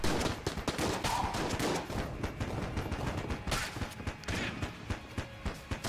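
Rapid, dense gunfire rattles throughout in Enter the Gungeon, overlapping shotgun and automatic bursts loud and continuous, with crashing impacts mixed in.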